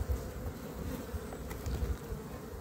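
Honeybees hum at an opened hive, a close, dense buzzing that swells and dips slightly throughout the short stretch, with no voices.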